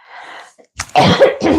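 One close, harsh cough following a brief breathy exhale, loud and abrupt.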